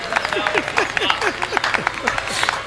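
Brief clapping from a poetry recital audience at a kavi sammelan, a handful of quick claps mixed with a performer's voice and crowd murmur.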